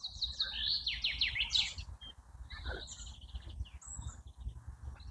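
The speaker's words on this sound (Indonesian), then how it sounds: "Dan itu teman-teman bisa lihat gerak-gerak ini adalah burung ya. Banyak burung di sini." Birds sing in a forest in spring: a quick, bright chirping trill opens, then scattered shorter calls and tweets ring out at moderate distance over a low, breezy background hum.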